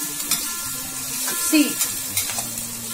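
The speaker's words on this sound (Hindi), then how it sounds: "onion is getting red now, the colour is changing, but still I will fry more" Onions fry in a pan with a steady soft sizzle, punctuated by light stirring scrapes and clinks, while someone talks over it.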